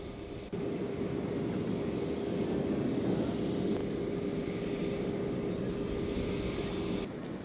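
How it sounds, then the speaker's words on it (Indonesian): A commercial ITA Airways airliner lands at Soekarno-Hatta Airport, its engines producing a steady loud roar that starts abruptly and holds evenly for several seconds before cutting off. "Paus dan rombongan mendarat menggunakan pesawat komersil Aita Airways"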